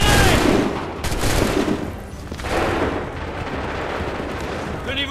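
Loud musket volley gunfire in Assassin's Creed 3 during the Lexington and Concord battle: a dense, rolling burst of shots that echoes and rumbles on for several seconds, with battlefield noise beneath.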